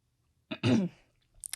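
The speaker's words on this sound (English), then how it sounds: "Sorry, I gotta get that cough out." A single short cough bursts out close by, followed by a brief faint rustle.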